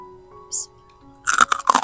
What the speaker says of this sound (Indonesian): Kalian bisa dengar suaranya kan? Ini tuh renyah banget, pokoknya renyah banget